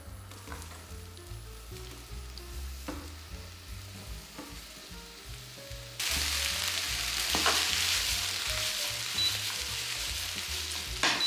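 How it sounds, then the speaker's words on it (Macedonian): Onion added with extra oil to the same pan used for frying meatballs, hissing in a steady sizzle that grows louder and brighter halfway through, with a few stirring clinks and no talk. "Во истата тава, каде што се пржа ќофтињата, ќе додадам уште малце масло"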